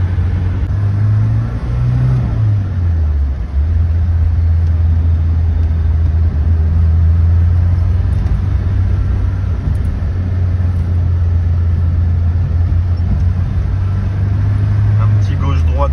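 A classic BMW 1802's engine drones loud and close on a road drive, its low hum shifting pitch briefly early on, then holding steady throughout.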